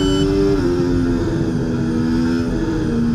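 A Formula 1 car in EA Sports F1 at Baku holds a steady, loud high-revving engine drone at full throttle, its pitch shifting slightly, with no one talking.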